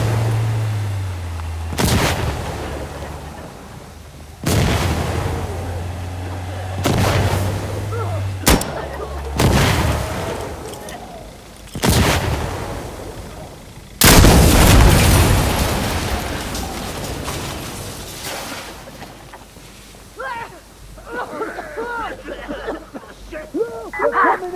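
Gunfire and a frag grenade explosion in the Insurgency Sandstorm video game, in a hardcore checkpoint co-op match, with repeated loud booming blasts and shots spaced a few seconds apart, then quieter crackle and faint voices.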